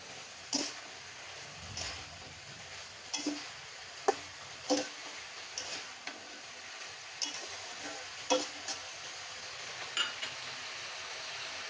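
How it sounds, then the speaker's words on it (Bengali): Jackfruit seeds and vegetables are stirred in a pan over a soft frying sizzle, with a faint steady crackle broken by light, regular scrapes and taps of a spatula. "এখন দিয়ে একটু নেড়ে চেড়ে নিব।"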